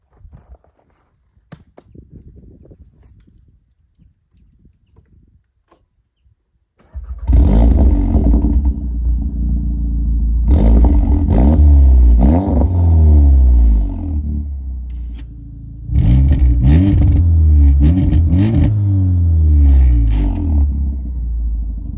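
Volkswagen Golf R exhaust with the valve opened and closed: after a quiet stretch of faint noise, the engine fires up loudly and runs with repeated throaty revs and roaring surges, close and alone.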